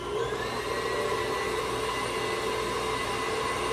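An electric mixer beats eggs until frothy for tangy lime bars. It gives a steady, loud, high-pitched whir with no pauses, and nobody speaks.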